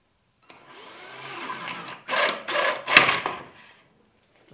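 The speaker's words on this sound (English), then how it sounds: "I'm going to drill as close to the bottom as I can." A drill with a spade bit grinds into wood in a few rough bursts, rising and falling in pitch as the bit bites, with no talking.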